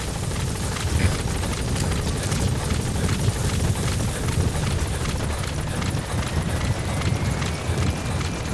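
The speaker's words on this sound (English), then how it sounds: "Support helicopter has arrived." A support helicopter in Metal Gear Solid V: The Phantom Pain, its rotors chopping in a rapid, steady rhythm under a loud engine whine, sustained and close throughout.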